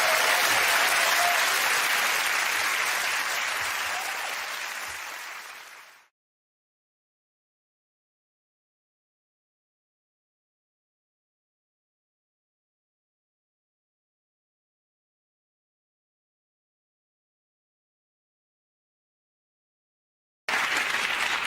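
Studio audience applause on a comedy panel show, loud full clapping that fades out over about six seconds, then a long stretch of silence before a sudden return of clapping at the very end.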